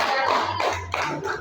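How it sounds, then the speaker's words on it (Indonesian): Classroom applause from a group of students clapping their hands, a dense steady patter lasting about a second and a half, fairly close and loud with faint voices mixed in. "berikan tepuk tangan"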